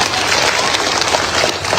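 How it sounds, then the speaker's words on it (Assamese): Dense applause from a large crowd at an outdoor political rally in Dhubri, steady and loud throughout with a faint murmur of voices underneath. "আৰু এটা হাত তালি বজাবলৈ অনুৰোধ কৰিলে মই সকলোকে"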